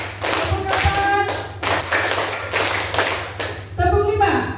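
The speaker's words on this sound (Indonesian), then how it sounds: "Tepuk 1, tepuk 2, tepuk 3, tepuk 4," Group of students clapping in a counted rhythmic exercise during a school positive-culture session, sharp bursts of claps in short sets separated by brief pauses, with a voice calling counts between them.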